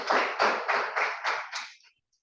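Applause from a public speaking class, a brief ripple of five or six broad, noisy bursts in steady rhythm that fades out after about two seconds.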